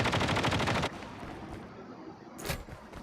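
Automatic gunfire in a COD Mobile squad match: a loud, rapid burst of shots, then quieter ambience and one more sharp report.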